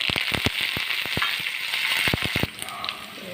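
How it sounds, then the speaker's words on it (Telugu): Tempering spices crackle and pop in hot oil, quick sharp bursts over a steady sizzle that eases off near the end. "ఇప్పుడు తాలింపు వేగిపోయిందండి"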